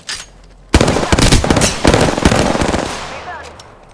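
Video game gunfire on a gaming PC bursts in loudly, with rapid, dense crackling shots running continuously after a short quiet lead-in.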